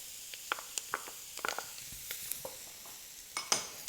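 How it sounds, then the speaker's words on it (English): Chopped celery and onion sautéing in a pan, a soft steady sizzle punctuated by sharp clicks and scrapes of stirring, fairly quiet and close with no talking. "we're just going to kind of let those vegetables simmer around and saute a little bit"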